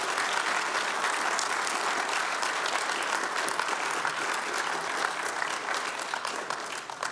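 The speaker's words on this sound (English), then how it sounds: "I think we want to give both of them a round of applause for how they've handled it." An audience at an election forum breaks into steady, sustained applause, a dense wash of many hands clapping evenly from start to finish, with no voices heard over it.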